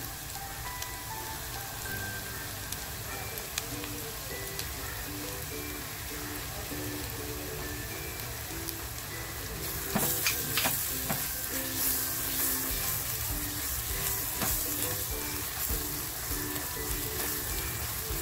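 Homemade masala spices hit hot oil in a pan for an oyster masala, giving a soft steady sizzle that swells into louder crackling and spattering partway through, with occasional stirring clicks.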